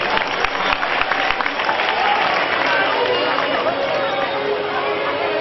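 Loud, sustained applause mixed with crowd noise from an audience at a live stage performance at Baba Rulia Shah Ji in Jalandhar, a steady dense wash of clapping lasting throughout.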